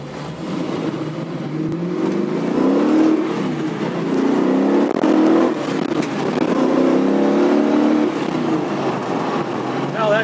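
A 1976 Pontiac Trans Am Gold Edition SE with a 455 engine accelerates through the gears, its steady engine drone rising in pitch and then dropping at each shift. The engine stays loud and close throughout, with talk faintly under it.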